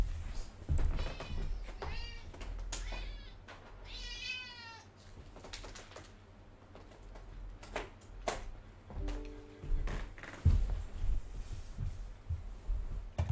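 A pet cat meows repeatedly indoors, several drawn-out wavering calls at close range, with someone talking at moments in between and low room noise underneath.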